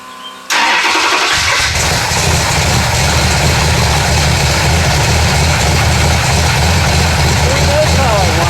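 A 426 Hemi with a crossram intake catches after a brief pause and settles into a loud, steady, rumbling idle. People talk beneath the engine noise.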